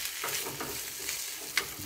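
A cheese egg roll fries in a pan with a steady close sizzle and a couple of soft scrapes or taps, no voices.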